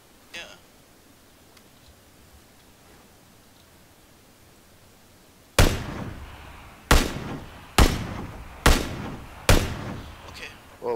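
Five sharp, loud gunshots ring out in a round of PUBG, spaced roughly a second apart with short echoing tails, after a quiet stretch with only faint background noise.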